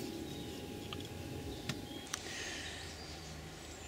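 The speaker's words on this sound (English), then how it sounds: "There is some lovely bird song at the moment." Faint birdsong with a few high chirps over a steady outdoor hum in woodland, with a distant low rumble of a car in the background.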